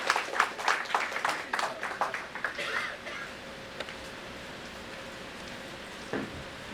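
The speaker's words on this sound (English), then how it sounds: "very warm round of applause." Audience at a Union Budget 2019 discussion applauds a speaker taking the podium, a short burst of scattered clapping that fades within about three seconds into quiet room tone with a few stray sounds.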